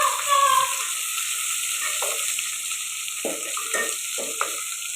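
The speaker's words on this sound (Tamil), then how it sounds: "எண்ணெய் கொஞ்சம் காஞ்சதுக்கப்புறம் கடுகு போட்டுக்கலாம். வகை போட்டுக்கலாம். வெங்காயம்லாம் போட்டாச்சு, நல்லா செஞ்சுக்கலாம்." Onions frying in hot oil with mustard seeds for a chutney give a steady close sizzle, with occasional soft scrapes and taps of stirring in the pan.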